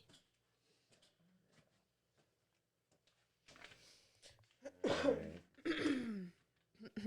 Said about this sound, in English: Just a smoker's cough